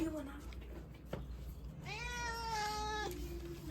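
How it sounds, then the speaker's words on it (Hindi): A stray cat on a home balcony gives one clear drawn-out meow, close and moderately loud, while someone talks softly before and after it. "दूध डाल देते हैं, देना है बिल्ली को।"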